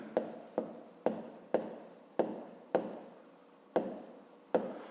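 A pen writes out a fifth-grade math solution on paper with eight crisp scratchy strokes at a steady rhythm, each one fading quickly, close and clear.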